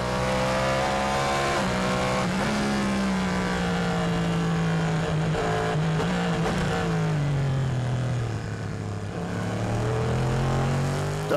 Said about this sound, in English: The brutal sound of the Caddy V8 is a real fan favourite.